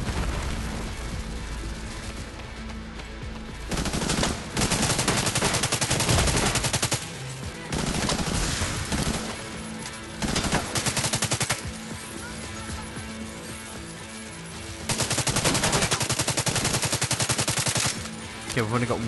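Gunfire rattles in sustained bursts through a firefight in The Division 2, loud and close, with heavy automatic volleys separated by short lulls, continuing for the whole stretch.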